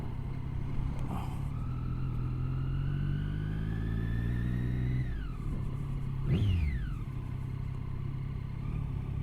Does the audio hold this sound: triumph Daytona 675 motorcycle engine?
yes